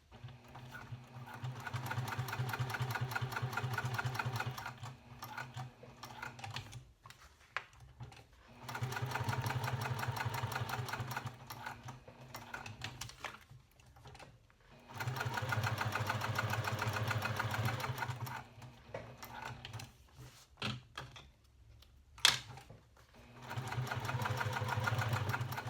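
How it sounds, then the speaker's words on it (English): A sewing machine with a Teflon foot topstitches around all four sides of a vinyl card slot panel for a tall wallet, running in three steady multi-second bursts separated by short pauses, close and alone. "I'm going to top stitch around all 4 sides, just under 1/8 of an inch"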